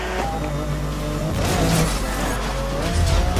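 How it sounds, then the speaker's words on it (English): Car crash in the Need for Speed Most Wanted (2012) racing game, with a loud, continuous engine and road roar and a brief impact near the middle, no voices heard. "Racer just crashed, he just wiped out."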